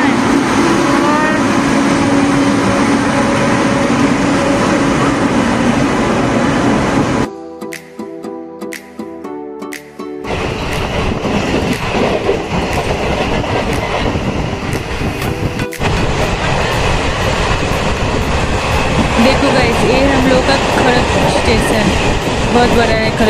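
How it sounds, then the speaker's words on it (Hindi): Train moving through a busy railway station on a trip from Tatanagar toward Kolkata, a loud steady rumble with hissing and clatter, a brief drop in the middle, then renewed roaring noise with a sharp metallic crack. "गाइस देख रहे हो हम लोग का ये वाला ट्रेन है"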